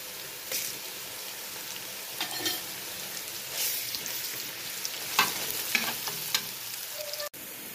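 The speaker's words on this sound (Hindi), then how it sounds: "हम दो टेबल स्पून अदरक लहसुन का पेस्ट डालेंगे और उसे अच्छे तरीके से भून लेंगे" Ginger-garlic paste and onion frying in hot oil for a fish curry, a steady close sizzle with stirring scrapes breaking through now and then, no voices.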